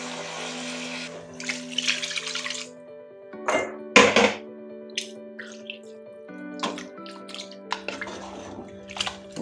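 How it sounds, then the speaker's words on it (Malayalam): Water pours into a pot of chicken curry, two cups' worth, with splashing bursts, drips and a few kitchen clunks against a steady low hum. "ഇവിടെ 2 കപ്പ് വെള്ളം ഒഴിക്കുന്നു."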